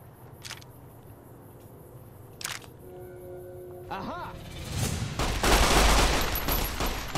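Gunshots crack from a firefight in Fallout: New Vegas, a few sharp separate reports early on giving way to a denser, louder burst of fire near the end, with a voice speaking over the action.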